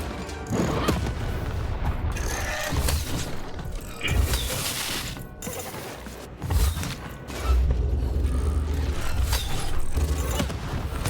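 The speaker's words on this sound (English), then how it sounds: "Look out! Walls are rising." Stone walls rise in the Lost in Random video game board battle, grinding and creaking mechanically with heavy low rumbles and a few thuds, loud and continuous amid game effects.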